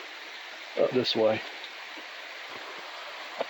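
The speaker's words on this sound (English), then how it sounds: "it's just like little waterfalls one after the other." Water rushes steadily over a run of small waterfalls on Indian Creek along a steep section of trail in Hanging Rock State Park, a constant close rush with someone briefly speaking over it.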